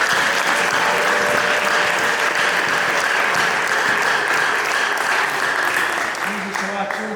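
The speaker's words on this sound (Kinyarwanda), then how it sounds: "Ari bugufi Yesu, tumukomere amashyi kuko azaza." A church congregation claps together during a sermon, with dense, steady applause filling the room for several seconds before it thins and fades out.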